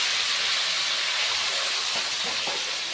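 Papaya pieces hit hot oil with sizzling garlic tempering in a pan while cooking papaya dal, giving a loud, steady broadband hiss and crackle close up throughout, with no talking.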